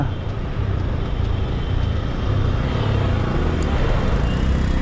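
Road traffic creeps along in a jam, cars and motorcycles on the road near Lonavla and Khopoli, a dense steady low engine rumble and roadway roar close by without pause.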